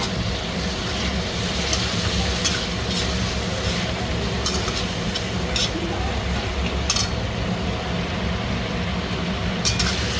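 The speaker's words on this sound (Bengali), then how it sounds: "মশলার সাথে মাশরুম ভালো করে ভাজা কষা হয়ে গেছে।" Mushrooms fry in spice masala in a pan, a continuous close sizzle under repeated scraping and clinking of a spoon stirring against the metal.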